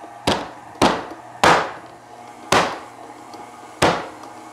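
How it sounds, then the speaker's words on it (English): Cold butter being mashed with a rolling pin on a kitchen surface, five sharp, solid thumps at uneven intervals, each with a short decay, with no talk. "to make cold butter malleable, what you do is mash it with a rolling pin"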